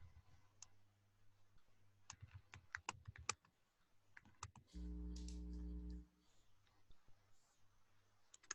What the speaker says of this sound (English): If you're typing over the top of somebody else